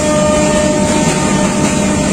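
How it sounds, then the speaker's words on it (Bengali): Another train rushing past during a crossing, heard from aboard the Dhaka Mail, a loud steady roar and rumble filling the whole moment without pause. "আমরা কোনো একটা ট্রেনের ক্রসিং খেলাম"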